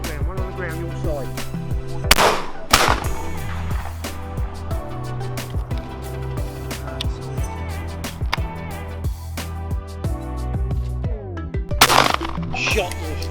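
Loud shotgun shots from a pigeon shoot over decoys, with two sharp blasts a few seconds apart and another later, among a steady engine-like drone, rustling and some talk.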